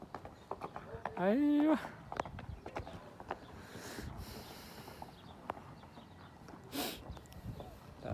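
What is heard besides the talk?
horse hooves clip-clopping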